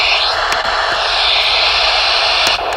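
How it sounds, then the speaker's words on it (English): Steady broadband hiss from a Proaller white noise machine, even and continuous with no pauses, loud and close, with a couple of faint clicks. "You get the white noise,"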